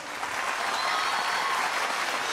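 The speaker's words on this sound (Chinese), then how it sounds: "给两队拍拍手吧" A studio audience at a television singing competition applauds two singing teams in a brief, dense burst of clapping that stays loud and even throughout.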